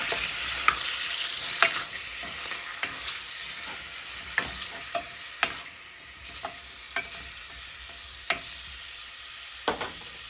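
Little smokies sausages in chile colorado sauce are stirred in a pan, a soft simmering sizzle broken by a dozen separate spoon clacks against the pan at irregular intervals, with no voices.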